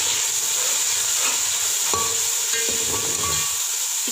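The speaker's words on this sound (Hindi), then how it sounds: "इसको अच्छे से भून लेंगे।" Spices and tomato paste sizzle steadily in hot oil for beef pulao, a constant frying hiss with a few scraping stirs of a utensil against the pot.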